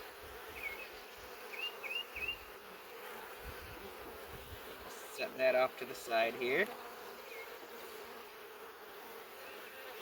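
Steady, quiet buzzing of many honey bees around an open hive during a colony split fills the background, with a person speaking briefly over it partway through.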